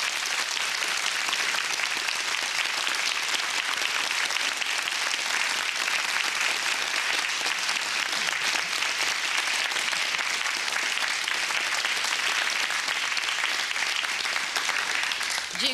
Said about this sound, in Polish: to publiczność proszę o gorące brawa